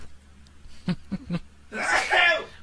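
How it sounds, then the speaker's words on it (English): A single loud sneeze bursts out close to the listener, preceded by a few short breathy catches. "I'm going to sneeze right now."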